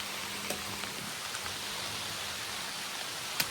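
Steady rain falls on a sugarcane field, a dense, even hiss that never lets up, broken by a few sharper drips, with no voices.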